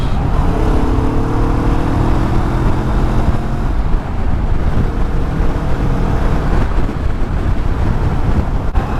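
A 2019 Kawasaki Vulcan S ABS motorcycle engine revs while riding, a loud, steady drone with rising engine tones early on, mixed with heavy wind rush against the microphone.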